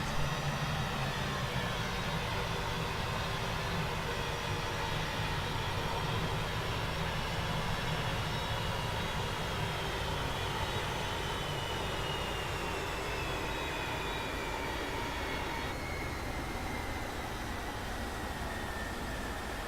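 Boeing 707-320 jet engines cruising in Flight Simulator X, a constant broadband roar with steady faint tonal whine, quiet and unbroken throughout.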